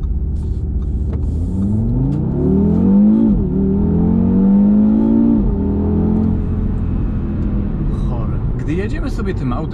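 A 2019 Audi RS3's five-cylinder engine hums and rises in pitch as the car accelerates through gears, heard from inside the cabin, with a steady low rumble throughout.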